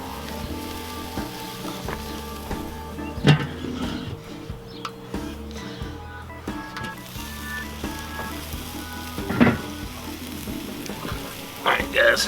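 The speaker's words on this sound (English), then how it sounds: "sear the other side there" Pork loin seasoned with Buffalo Trace searing in a cast iron pan: a steady close sizzle and crackle with occasional sharper pops as the meat shifts, no voices over it.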